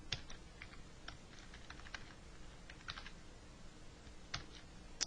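Typing on a computer keyboard while entering an email address and a password, with quiet, irregular clicky keystrokes in short bursts that pause now and then, heard alone and fairly faint.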